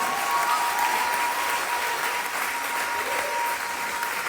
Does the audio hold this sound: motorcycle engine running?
no